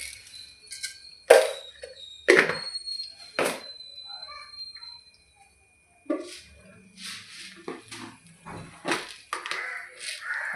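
Mustard seeds dropped into hot ghee in a pan give a few sharp pops early on, then a denser, irregular crackle and sputter near the pan, with a thin high whine in the background.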